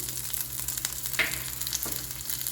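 Curry leaves and green chillies fry in hot oil while a Guntur chicken 65 is being prepared, giving a steady close sizzle with a couple of brief stirring scrapes and no talk.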